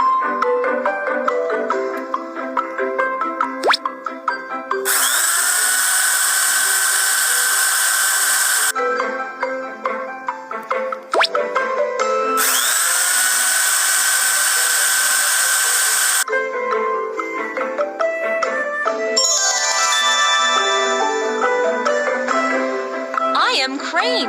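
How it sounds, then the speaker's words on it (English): Cartoon excavator drills running during bridge foundation piling, two long loud whirring bursts separated by clanking and tonal mechanical sounds. "Install drills."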